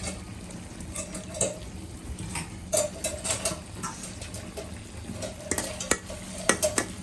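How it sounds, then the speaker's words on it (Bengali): A spoon stirs spices, blended onion and chicken in a pan, with repeated metallic scrapes and clinks in an irregular rhythm over a low background sizzle, the strokes growing louder and sharper toward the end. "আমি এইভাবে আমার সুবিধার্থের জন্য এক পাশে মশলা দিয়ে এক পাশে মাংসগুলোকে রেখে এইভাবে নেড়ে ছেড়ে দিচ্ছি"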